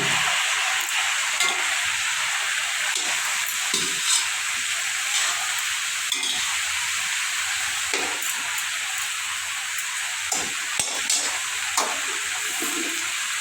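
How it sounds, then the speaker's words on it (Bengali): Boiled papaya, squash, cucumber and carrot are poured into a pan, giving a steady, rushing, hissing wash like running water and sizzling that fills the whole stretch, with scattered clatters and no talk. "এখন আমি সব সবজিগুলো ঢেলে দিচ্ছি।"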